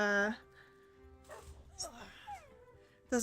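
A dog whimpers and whines in a Minecraft game, with short high yips scattered between stretches of speech.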